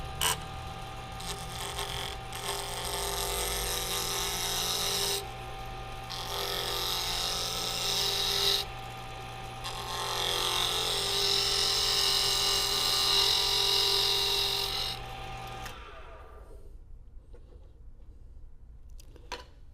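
A fingernail gouge cuts wood on a lathe in a steady, loud whirring cut with shifting tone and brief pauses, close by, then the lathe winds down near the end; no talk.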